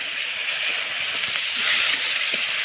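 Water splashed into a hot pan of frying cumin and ginger paste, giving a steady, loud, broad hiss that holds evenly for a few seconds with no talking.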